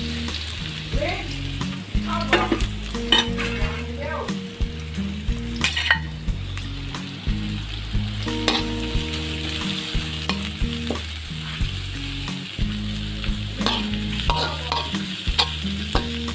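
Ingredients for a Thai frog soup stir-frying in oil, a loud continuous sizzle with frequent rhythmic scraping and clattering of a spatula against the pot throughout, no voices.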